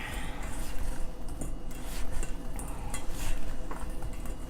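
Potatoes tossed with olive oil and seasonings in a bowl give a steady, busy clatter and clinking of utensil against bowl, continuous and close for several seconds with no talking.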